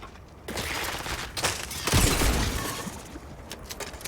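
Bursts of Mag Pulse gunfire in the game Starfield, loud rapid crackling shots with a heavy impact near the middle, set against dense combat noise.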